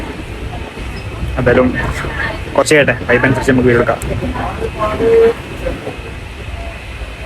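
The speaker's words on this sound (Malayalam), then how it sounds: "നമുക്ക് ട്രെയിൻ കിട്ടി." A moving train rumbles and rattles steadily throughout, a close, continuous background under someone talking.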